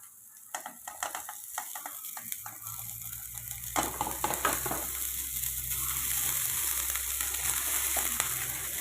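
Cooked rice is stirred into a frying coconut mixture in a pan for mango rice, with scraping, clattering strokes of the spoon over a soft sizzle that grows steadier and fuller.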